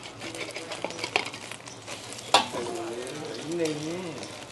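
Food fries in oil in a new pan, crackling and sizzling with sharp pops and clinks over it, while a voice talks in the second half.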